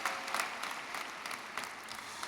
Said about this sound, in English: That's right, that deserves a round of applause.